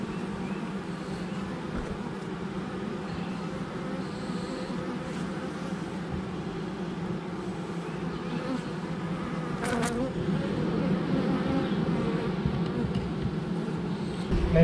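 Honeybees swarm around an open hive during a garden hive check at a house, a dense, steady buzz close by that grows slightly louder toward the end, with no talking.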